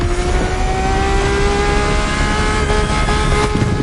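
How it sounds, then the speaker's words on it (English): A Ferrari F50's normally aspirated Formula One–derived V12 revs steadily in The Crew Motorfest, a loud, sustained engine drone with rising tonal whine that holds throughout, with no voices. "The F-50's core is a normally aspirated V12 that came straight from a Formula One."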